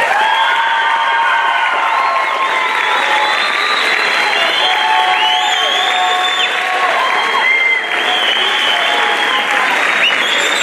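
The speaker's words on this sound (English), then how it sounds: "Let's give one more round of applause." A crowd at a spring 2019 graduation ceremony breaks into loud, sustained applause with cheering, whoops and high shouts layered over the continuous clapping throughout.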